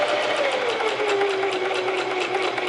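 A sewing machine stitches a half-inch hem seam in a fast, even rhythmic whir of needle strokes with a falling motor tone, close and steady throughout with no talking.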